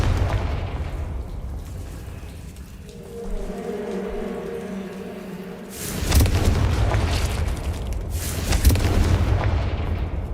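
Confringo blasting spell in a video game: a deep rumbling explosion bursts in loud and broad around the middle, then a second heavy blast follows, after a low droning ambient bed with no voices.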